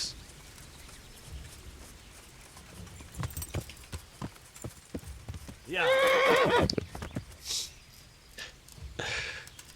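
A horse in the Kingdom Come: Deliverance video game gives a loud, close whinny midway, surrounded by scattered hoof clops and thuds and a short snort near the end.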